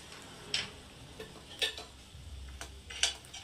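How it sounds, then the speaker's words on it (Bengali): Chickpeas frying in hot oil give a few sharp, scattered pops, about three distinct cracks, over a quiet low sizzle. "দেখুন কত সুন্দর ফাটছে ছোলাটা"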